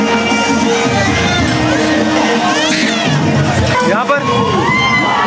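Dense crowd noise at a Navratri Garba celebration in a Jersey City expo centre, a loud babble of voices with shouts and whoops, while people nearby talk over the din.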